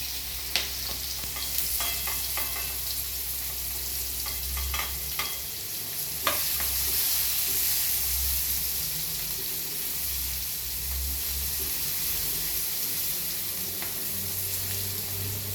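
Chopped onion sautéed in tempering oil in a pan, giving a steady soft sizzle with occasional utensil clinks and scrapes as it is stirred, fairly close and continuous, no talk.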